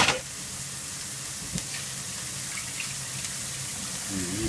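Asparagus and eryngii mushrooms stir-fried in butter over high heat, a steady close hiss of sizzling that runs unbroken throughout with faint stirring clicks underneath.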